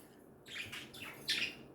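Male budgies chatter nearby in a few bursts of raspy, warbling chirps, the last burst louder, with no voices present.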